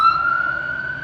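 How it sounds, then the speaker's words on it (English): An ambulance siren sounds as a single steady, piercing tone that drifts slightly in pitch, fairly loud and alone for about a second. "That's an ambulance."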